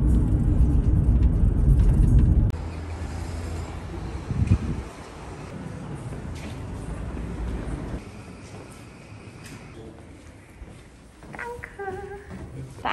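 Inside a car on the way to a clinic in Istanbul: a loud, steady engine and road rumble for the first couple of seconds, then a quieter, continuous hum of the moving vehicle with light rattles and faint cabin noises.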